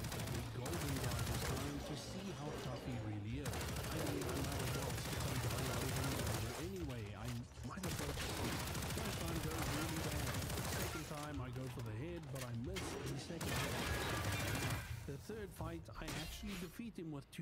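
Rapid bursts of gunfire during a boss fight against a big golden enemy in a shooter game, dense and loud throughout, with brief lulls between volleys.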